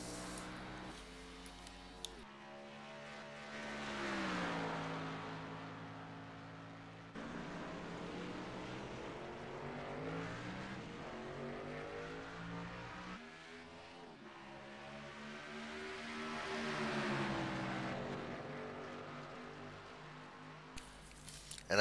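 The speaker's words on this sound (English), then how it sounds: "we're just going to let the engines speak for themselves" Race car engines in a sim racing video game at ISM Speedway, roaring and whining as their pitch climbs and falls in long sweeping passes, with several cars overlapping and no talking.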